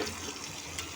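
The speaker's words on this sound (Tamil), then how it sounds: "இந்த இதில் இட்லி பானையில் தண்ணி பிடிச்சிட்டு வாடி." Tap water runs into an idli pot, a short, steady splashing gush with no talk over it.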